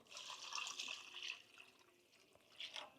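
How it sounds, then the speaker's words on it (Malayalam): Hot water pours into a cooking pot in a home kitchen, a faint continuous splashing stream that swells and eases over a few seconds. "നല്ല ചൂടുവെള്ളം ഒഴിച്ച് കൊടുക്കാം കേട്ടോ ഇനി"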